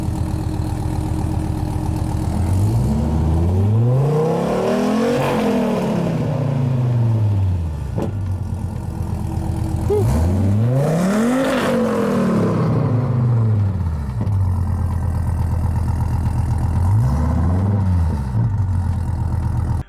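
A Dodge Viper engine revs in neutral, climbing and falling in three loud sweeps over a steady idle, the last rev shorter, with no talking.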